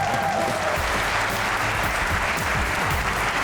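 A studio audience on the comedy show Hasna Mana Hai breaks into sustained, dense applause to welcome singers Bilal Maqsood and Zeeshan Ali, a steady wall of clapping that holds loud and even throughout.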